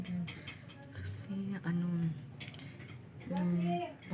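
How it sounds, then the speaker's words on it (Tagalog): Plates and cutlery being washed at home give off scattered sharp clinks and clatters, close by and interleaved with a person talking over the work. "Ayun, magas ako ng pinggan."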